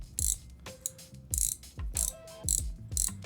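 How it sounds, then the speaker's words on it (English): Drag of a Daiwa Prorex MQ LT spinning reel clicks in quick ratcheting bursts, about six short runs of rapid ticks, close and moderately loud with no voices. "Nice sounding drag."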